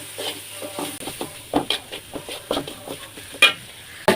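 Chili, turmeric and coriander powders are stirred in a cooking pan while preparing a beef and papaya curry: a spoon scrapes and knocks in uneven strokes over a soft sizzle, close and fairly loud, with no talking.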